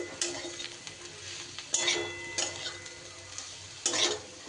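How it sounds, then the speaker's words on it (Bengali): Fried spice mix stirred into spicy potatoes in a pan: several brisk spoon scrapes and clatters against the metal over a soft background sizzle. "মশলাটা দিয়েও খুব ভালো করে নাড়িয়ে চাড়িয়ে নেব"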